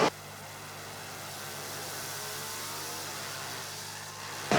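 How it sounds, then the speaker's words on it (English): The UAS Darmstadt Formula Student race car engine at an endurance event, a steady mid-pitched engine drone that swells gently as it passes, heard from a distance over a constant background hum. "Austin just left his mic open in order for everybody to hear the sound of the UAS Darmstadt car."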